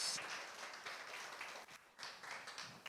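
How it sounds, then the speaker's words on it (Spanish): A church congregation claps together for the Lord in a steady burst of massed applause, many hands at once with no voices over it. "Le damos palmas al Señor, hermanos."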